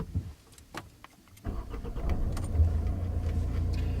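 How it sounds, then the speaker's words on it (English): A car engine cranks and catches after some faint clicks and rattles, then settles into a low, steady idle, close by inside the car, with no one talking. "if you'd like to start the engine for me"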